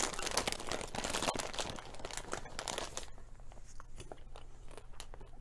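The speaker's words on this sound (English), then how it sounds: "These are some cheesy popcorn. Good for if you are watching a movie, and I'm getting ready to taste it right" Crunchy cheesy popcorn chewed close to the microphone, with bag crinkling and steady bites that fade to quieter munching.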